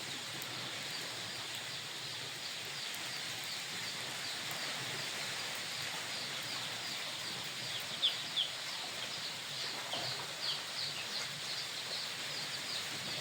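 Chicks and chickens in a poultry house make a dense, steady hiss of peeping and clucking throughout, with a few brief, slightly louder chirps near the end.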